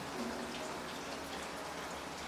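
Icy rain falls steadily in Edinburgh, a continuous soft patter of drops on surfaces with no clear breaks, heard close and fairly quiet throughout.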